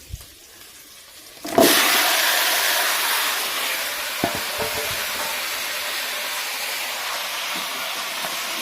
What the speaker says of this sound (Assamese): ইফালে মোৰ কাচকল ভাজা হৈ গ'ল